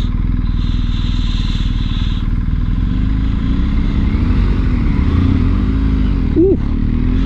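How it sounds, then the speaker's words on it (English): A Harley-Davidson motorcycle draws up close with a loud, steady engine rumble, with gear-change whine and a brief higher whoop near the end, heard from another moving bike. "nearly got overtaken by the Harley Davidson then"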